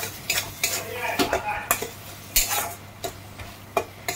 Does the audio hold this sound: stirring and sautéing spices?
yes